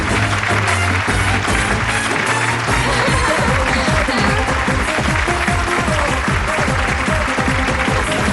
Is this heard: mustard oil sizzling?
no